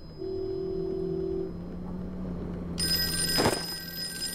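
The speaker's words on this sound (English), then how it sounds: "Alright, I'll answer the phone." A telephone in the Call of Cthulhu PC game rings with a sudden bright, sustained bell tone over a low engine-like drone and ambient hum, loud and close.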